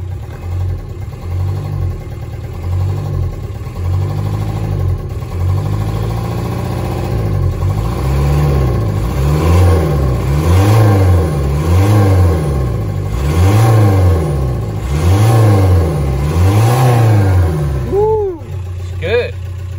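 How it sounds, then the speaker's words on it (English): A camper's PD130-swapped engine revs repeatedly in rising and falling surges over a steady idle, with people talking nearby. "Give it a little rev, if it will rev."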